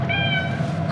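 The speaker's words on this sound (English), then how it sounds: "Kitten friend here, look." A kitten named Oscar lets out a single drawn-out meow, close and clear, with no talking over it.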